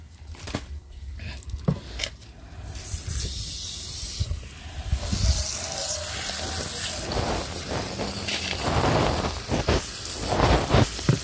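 Water pours and splashes steadily onto soil and leaves of a potted aglaonema, a hissing, trickling flow that grows louder toward the end, with no talking.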